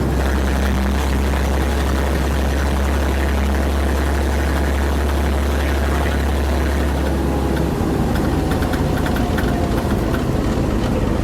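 An old American LaFrance fire engine drives along with a loud, heavy, droning engine rumble from inside the cab. The pitch shifts about two-thirds of the way through, and no voices are heard.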